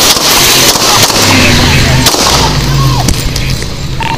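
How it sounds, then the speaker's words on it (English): Loud, dense police gunfire, 27 shots, with sharp cracks and booms blending into a continuous roar, voices faintly mixed beneath the racket. "27 shots fired."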